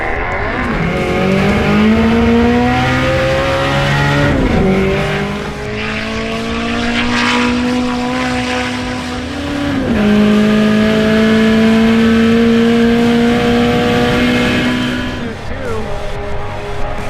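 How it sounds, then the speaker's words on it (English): A 600 horsepower Saturn race car accelerates hard down an airstrip at a drag event, its loud engine climbing through several gear changes with rising whine and brief drops between shifts. "You ever seen a 600 horsepower Saturn that still had a head gasket?"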